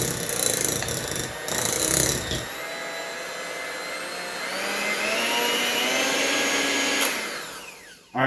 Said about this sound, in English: we're going to try this with the regular hand mixer